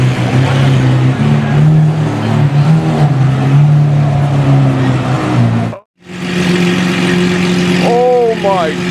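A loud, rumbling SVJ supercar with a straight-piped Ryft exhaust drones continuously, cuts out abruptly for a moment, then returns with harsh revs, crackles and excited voices underneath.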